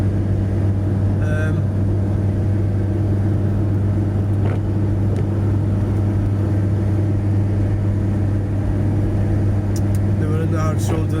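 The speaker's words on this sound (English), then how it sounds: "We got Mercedes and Audi doing about 85" Mercedes and Audi cars pass at around 85 mph on a motorway, a steady loud roar of traffic and tyre noise under the talk of someone speaking nearby.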